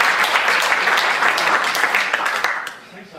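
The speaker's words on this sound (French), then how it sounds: "Et vous pouvez l'applaudir." Audience applause for basketball pioneer Michel Bordeaux at a conference on basketball history in Oise, a dense steady clapping from a room-sized crowd that holds for about three seconds before thinning at the end.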